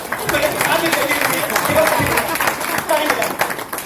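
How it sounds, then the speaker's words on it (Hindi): An audience at an Indian banking seminar claps together, a moderate, continuous patter of hands in a hall, with voices mixed in. "एक बार ताली बजाएंगे"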